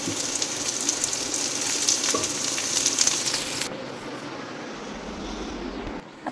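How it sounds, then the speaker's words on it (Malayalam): Chopped onion and chili fry in a pan with a steady, loud sizzle throughout, the crackle easing slightly partway through and carrying on alone without talk. "ഉള്ളി മുളകൊന്ന് മൂത്തിട്ടുണ്ട് നമുക്ക് ഇട്ട് കൊടുക്കാം"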